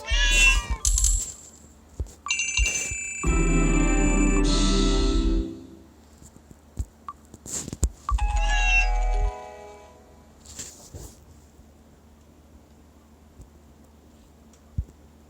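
A cat in a video game meows repeatedly, several drawn-out, clear cries separated by quiet gaps, along with a few small game chimes and ticks.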